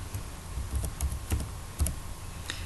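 Typing on a computer keyboard while entering text in an Excel spreadsheet, a soft run of scattered key clicks close by, with no talking.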